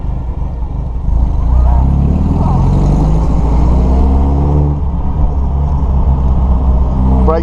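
An MG TC car engine in the Assetto Corsa driving game, with a loud, steady low rumble that rises in pitch as it accelerates through the gears, and someone talking over it.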